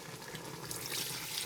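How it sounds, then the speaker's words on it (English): Water pours steadily into a cooking pot of oxtail on the stove, a close, continuous splashing stream that brightens slightly as it goes. "we gotta add some more water in here"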